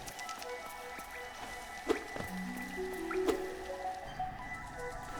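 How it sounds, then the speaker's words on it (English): Falling-water ambience in Hollow Knight, with soft drips and trickling splashes over a steady low wash, quiet and continuous with no music. "The sound of falling water."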